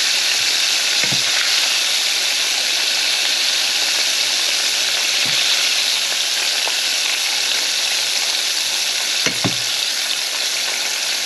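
Shrimp fry in a hot pan with a loud, steady sizzle and crackle, broken by a few brief stirring or tossing clatters along the way, with no voices.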